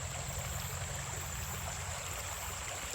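Creek water flowing under a bridge makes a steady, even rushing and burbling that holds at the same level throughout, with no voices.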